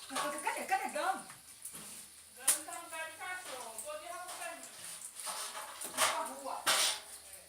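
Small dog whimpering and giving short yips and barks while being bathed at home, the cries rising and falling close by, mixed with a person speaking and splashing or rubbing sounds.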